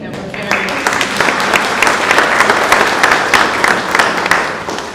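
An audience claps loudly at the Butterfly Gardens grand opening in 2022. The dense, continuous applause has distinct claps popping out, and a voice carries on beneath it.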